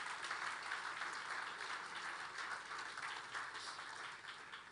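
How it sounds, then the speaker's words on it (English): A crowd applauds at the Africa–France Summit in Nairobi, a steady broadband wash of clapping that holds at an even level for several seconds with no voices over it. "Donc, immense applaudissement pour vous tous ici"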